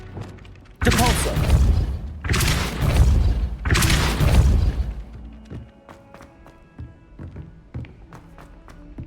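Depulso spells cast in the video game Hogwarts Legacy: three loud, dense bursts of force in quick succession, each a heavy whooshing blast lasting about a second, followed by quieter scattered clicks and taps.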